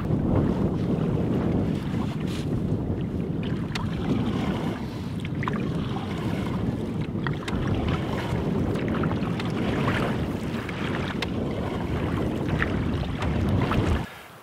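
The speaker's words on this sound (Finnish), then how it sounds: "Täällä on aika kova tuuli." Strong wind on a lake buffets the microphone in a steady, loud roar with gusty rumbles, no voices, cutting off abruptly at the end.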